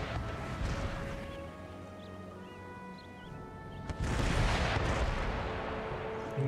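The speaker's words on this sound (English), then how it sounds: "just get my howitzers to shoot at whatever they want" Howitzer artillery firing in the video game Empire Total War: heavy booming cannon blasts with a sustained rumbling roar, louder in the second half, with no talk.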